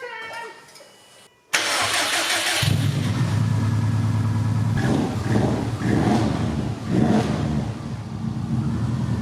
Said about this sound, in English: Gonna fire it up for the first time.